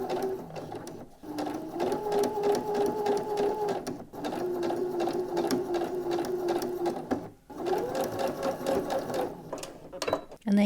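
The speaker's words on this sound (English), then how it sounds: "Once I've done the top stitching I can attach the ends and then we can get it onto the main bag piece as well" Sewing machine top stitching a nylon zipper pouch, humming at a steady pace through three long runs separated by brief pauses, close and fairly loud with no voice over it.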